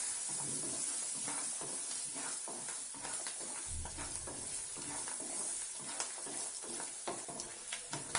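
Small shallots sauté in an oil pan for a Tamil vathal kuzhambu, giving a soft continuous sizzle and hiss with repeated stirring scrapes, close but fairly quiet, with no talk.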